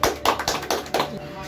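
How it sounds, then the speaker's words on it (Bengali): Several hands clapping in short irregular bursts, about five claps spaced unevenly, fairly close and moderately loud, at a small welcoming gathering in a friend's shop. "হাততালি দাও, হাততালি দাও"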